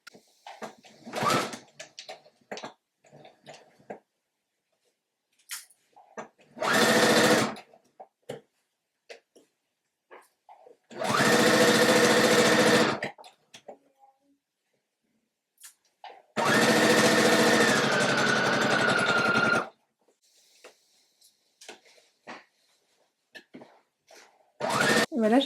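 A sewing machine stitches the sleeves and sides of a romper in one seam, running in three loud, steady whirring bursts of a few seconds each, separated by quiet handling of fabric and soft clicks.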